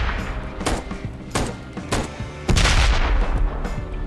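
Gunfire from the Ride to Hell: Retribution video game, several loud, booming shots spaced across a few seconds, ending in a heavier sustained blast, with no talking over them.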